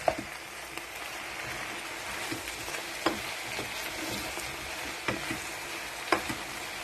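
Ratatouille vegetables fry in a pan under a soft, steady sizzle, while a utensil stirs them with occasional scraping knocks against the pan, close and moderately quiet, with no voices.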